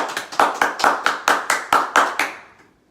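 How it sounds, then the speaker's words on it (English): Applause from a small audience for Mr. Patrick, about ten distinct, evenly spaced claps like a short rhythmic round, close and clear, fading out at the end. "who will now give a round of applause to,"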